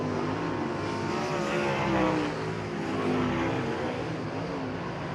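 Carson Short's USAC 21X race car laps a dirt track at Bubba Raceway Park during the Winter Dirt Games. The engine drones loud and steady, its pitch rising and falling as it passes.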